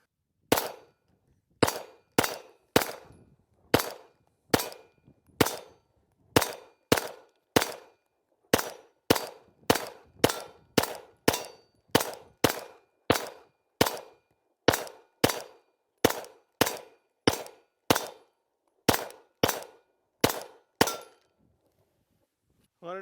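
A Glock pistol with a 32-round magazine fires a long string of sharp, evenly spaced shots, about thirty in all, loud and close with quiet gaps between them.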